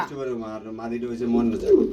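Strawberry Huma pigeons coo softly and repeatedly nearby, low throaty warbles with a voice speaking over them.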